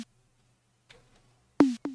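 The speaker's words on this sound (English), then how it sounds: "So we added this leg percussion right here." A leg percussion sample in a sparse beat: a faint soft tap near the middle, then two quick, sharp, pitched knocks close together at the end, heard on their own.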